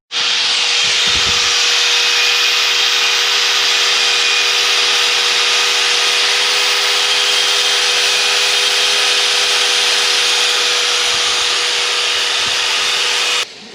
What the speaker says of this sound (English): He's sanding on that